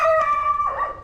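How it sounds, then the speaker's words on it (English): A dog on a dead-end street in a Santiago, Chile neighborhood lets out a close, loud howl that breaks into a short yelp, heard from a passing bicycle. "Dogs, you know."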